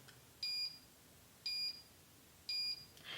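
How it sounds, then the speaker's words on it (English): A Beaba BabyCook baby food steamer beeps three times in an even rhythm when done steaming, short high electronic tones about a second apart, against a quiet background. "it'll beep like that when it's done steaming"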